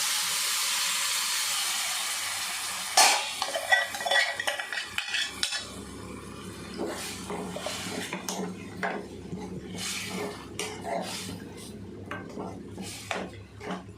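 Mutton sautéed with spices in sesame oil in a home kitchen: a loud sizzling hiss at first, then metal utensils scraping and clanking against the pan while frying crackles underneath.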